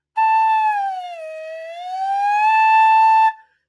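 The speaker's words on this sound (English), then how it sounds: "Some people need to use their pinky to do the slide whistle" A slide whistle plays one clear, sustained tone that dips lower, then glides back up to its starting pitch before cutting off, loud and alone, during a lesson on tonguing, intonation and vibrato.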